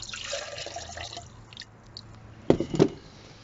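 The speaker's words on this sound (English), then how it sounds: "And then I'll pour some more in." Water pours briefly into a jug, followed by a couple of louder sloshing splashes near the end, close and with no talking.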